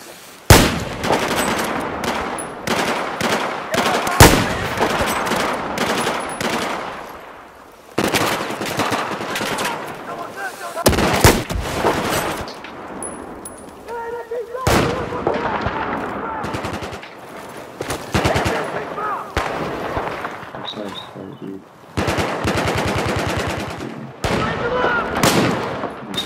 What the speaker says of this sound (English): Steer clear, I'm shooting!